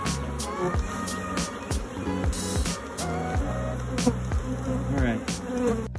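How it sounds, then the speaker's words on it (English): Thousands of honey bees swarm around a bee box next to a swarm trap, making a dense, continuous buzzing hum close by. Individual bees drone past now and then. "to be in the midst of thousands of bees like this, all flying around you"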